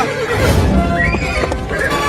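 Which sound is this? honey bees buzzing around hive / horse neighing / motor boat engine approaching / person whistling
horse neighing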